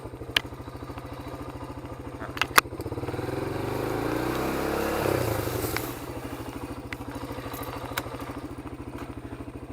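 Motorcycle engine idling in neutral at a stop, a steady close throbbing putter that swells briefly louder in the middle, with a few clicks and knocks.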